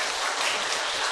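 Steady applause from a church congregation at an evening evangelistic meeting, a dense unbroken patter of many hands, fairly close and filling the whole short moment with no voices over it.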